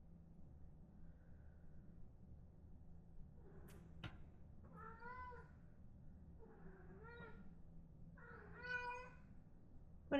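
An indoor cat meows three times, fairly close and moderately loud, with short pauses between calls over a low background hum.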